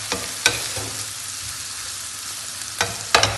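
Sliced onions fry in oil in a pan for a Kerala-style liver fry, sizzling steadily and quietly, with a few sharp scrapes and clacks from stirring near the start and at the end.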